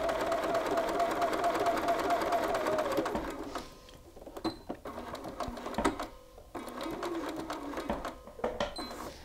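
A sewing machine runs steadily as it stitches across a shirt pocket, a continuous whirring burst for about four seconds, then short intermittent stitches and clicks follow with quieter pauses between.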